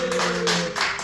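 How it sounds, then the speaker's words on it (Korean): Clapping from a church seminar audience on Bible memorization, a short burst of dense hand claps with a sustained tone running underneath. "박수 한번 쳐주세요"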